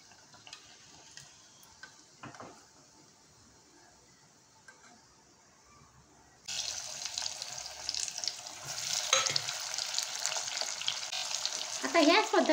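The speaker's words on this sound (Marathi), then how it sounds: "गोल्डन कलरचे तळून घ्यायचे आहेत." Methi chana dal tikki frying in hot oil: a faint, quiet stretch gives way to a sudden loud, dense sizzle that carries on steadily to the end.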